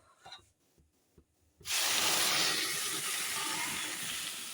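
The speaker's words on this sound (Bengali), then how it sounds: "এখন আমি জল দিয়ে দেবো" After a few soft clinks, a loud, sudden hiss erupts as water hits frying mung lentils in a hot pan, then settles into a steady, bubbling sizzle.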